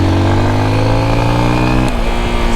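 A 2023 Honda XR150L motorcycle accelerates loudly and close, its single-cylinder engine note climbing steadily, then dropping briefly as the rider shifts and pulls on again.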